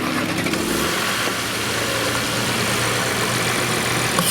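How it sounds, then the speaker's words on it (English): A 2019-style Audi SQ5 running a Stage 1 93 tune and TCU tune with an Integrated Engineering open-filter intake, its engine droning loud and close with a steady rumble and a slight rise in revs, no voices. "He's gonna start it up and give you a few whines so you can hear what this thing sounds like with an open filter."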